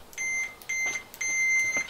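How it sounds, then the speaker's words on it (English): A multimeter on continuity test gives three short, clean electronic beeps in a quick broken rhythm, close and moderately loud with nothing else behind them. "When you touch, it gets a beep."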